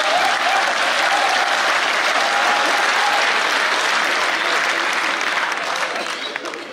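An audience at a Hindi comedy poetry gathering, a kavi sammelan, claps loudly and continuously, a dense wash of applause that fades slightly at the end.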